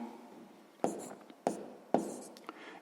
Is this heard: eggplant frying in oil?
no